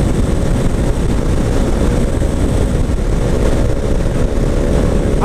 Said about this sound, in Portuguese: A moto do Ralf faz muito barulho, véio.